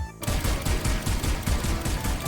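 A weapon fires a rapid, continuous burst of shots in the video game Overwatch, the sharp reports coming in quick, even succession and filling the short stretch loudly.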